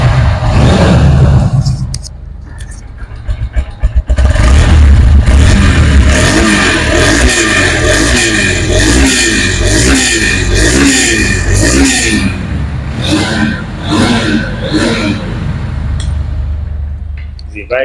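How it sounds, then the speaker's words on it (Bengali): A Honda X-Blade ABS motorcycle engine, a secondhand bike in intact condition, runs loudly up close, revving repeatedly with rising and falling surges over a steady idle, while a person talks over it. "বাইকটির সাউন্ড কিন্তু একদম মিষ্টি সাউন্ড, হন্ডা এক্স বুলেটের সাউন্ড কিন্তু মিষ্টি সাউন্ড"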